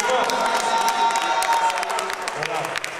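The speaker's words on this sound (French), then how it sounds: "On peut l'applaudir aussi." An audience applauds in a church during a concert in Orléans, with steady clapping and some cheering throughout and a sustained tone ringing over the crowd.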